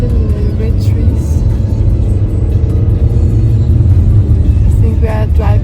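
A car driving along a road toward a nature park gives a steady low rumble and road noise throughout, close and continuous, with people talking over it.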